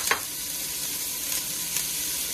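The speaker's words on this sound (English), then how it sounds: "now we're going to allow it to saute and start to blend all their flavors together" Finely chopped onion, carrot and celery sauté in a pan as the base of a Bolognese sauce, giving a steady, close sizzle with a few brief louder spits and stirring noises, no talking.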